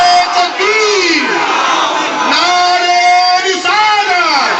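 A large crowd at an Islamic religious gathering roars a loud, sustained chanted slogan in reply to a call of Nara-e-Takbeer, many voices swelling together in long rising-falling shouts that repeat in waves.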